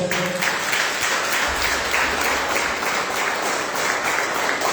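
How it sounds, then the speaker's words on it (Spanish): A church congregation at a Spanish-language service breaks into sustained applause, a dense, even roar of clapping filling the room, loud and continuous with a low rumble underneath. "Poder un aplauso por eso."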